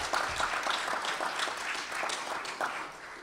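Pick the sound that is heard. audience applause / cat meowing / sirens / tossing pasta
audience applause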